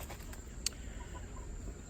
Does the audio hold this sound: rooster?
yes